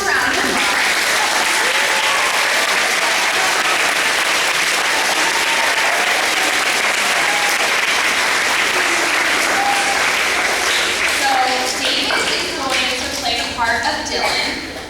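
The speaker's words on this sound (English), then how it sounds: "So let's give him a round of applause" A crowd of school children and adults gives a loud, continuous round of applause at a school visit event, close and dense, thinning slightly near the end as scattered voices rise beneath it.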